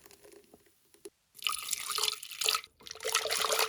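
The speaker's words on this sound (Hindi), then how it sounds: "अब मिक्सर में जो भी कुछ बचा कुचा है पानी डाल के हम लोग निकाल लेते हैं।" Water runs and splashes into a mixer jar in two bursts separated by a short pause, close and fairly loud, with a hollow, filling quality.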